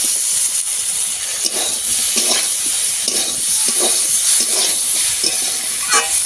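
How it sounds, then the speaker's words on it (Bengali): Ground turmeric and red chilli powder sizzle and fry in a pan for a river khoira fish curry with potato and eggplant, with a steady hiss and repeated stirring scrapes close by. "সামান্য একটু জল দেবো ভালোভাবে একটু কষিয়ে নেবো"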